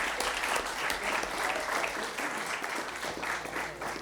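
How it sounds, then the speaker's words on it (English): An audience at an engineering open house in Barcelona bursts into sustained, dense applause welcoming a speaker to the stage, a steady close wash of many hands clapping with no voices over it. "So please welcome him with an applause."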